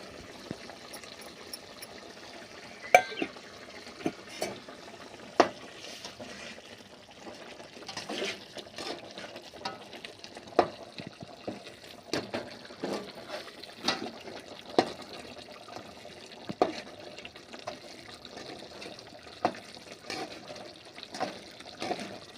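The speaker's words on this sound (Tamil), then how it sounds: "நல்லா கொதிக்கட்டும்ப்பா." Village-style garlic and black pepper kuzhambu simmers in a pot, giving a soft continuous bubbling with scattered small pops and plops spread across the whole stretch, fairly quiet and steady with no talking.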